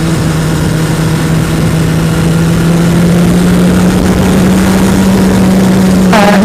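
2007 Honda CBR 600RR motorcycle engine running steadily close by in cold weather, a constant loud hum with a quick rise in revs at the very end.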